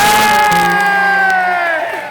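An audience at a festa junina dance competition cheering and shouting for the dancing couples, a loud near crowd roar with whoops and sustained voices that eases off toward the end.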